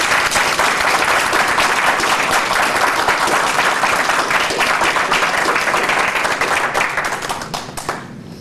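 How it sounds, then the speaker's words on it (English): A room of guests at a memorial lunch gives a loud, dense round of applause that holds steady, then tapers off and fades near the end. "we should give Sue a nice round of applause for coordinating today"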